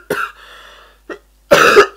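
Two bursts of coughing, a short cough and then a louder, harsher double cough, close by with a brief throat sound between.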